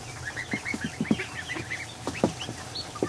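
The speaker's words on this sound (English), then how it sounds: "One of the Dalmatian ducks." Dalmatian ducks on a farm give a run of quick, nasal clucking calls in a steady stuttering rhythm, close and fairly loud over a low background hum.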